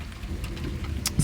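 Heavy rain from a strong thunderstorm in Ille-et-Vilaine, a steady close hiss and patter with a few sharper drops, no voices.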